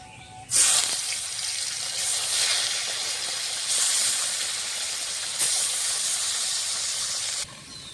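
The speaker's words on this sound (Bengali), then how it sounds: "বাকি মাছগুলো এভাবে ভেজে নেব।" Bata fish fry in hot oil with a loud, broad sizzling hiss that swells in waves as pieces are moved, starting abruptly and cutting off near the end, close by.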